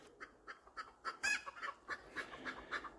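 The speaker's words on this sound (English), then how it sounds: "Now listen to them old chickens." Rhythmic honking and clucking calls repeat every fraction of a second, fairly faint against a quiet background hum.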